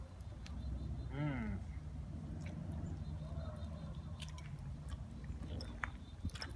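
A mouthful of hot dog and spaghetti is chewed up close, with soft wet squishing and biting under brief voiced sounds and outdoor campfire ambience.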